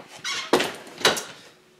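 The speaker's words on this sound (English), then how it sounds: "Sorry for your background sounds, by the way. It's a really crappy door." A worn, creaky door squeaks in a bedroom gaming setup: a pair of loud, grating creaks close by, each swelling then fading, over a faint steady background hum.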